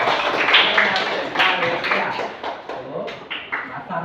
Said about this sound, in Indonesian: Tepuk tangan untuk Ifron.